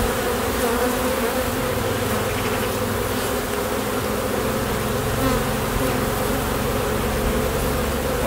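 Buckfast honey bees buzz at the hive in a dense, continuous drone, close and steady throughout with no voices over it.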